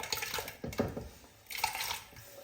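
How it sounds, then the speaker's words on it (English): Cubed potatoes dropping into borscht broth in a pot, two short bursts of splashing and plopping liquid separated by a brief pause, fairly quiet and close. "So potatoes can now go into our broth."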